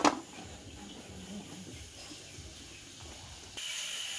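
A pot of potatoes boils on a wood-burning stove built from recycled iron, giving a faint, steady hiss of steam with a brief clatter at the start and a brighter hiss near the end.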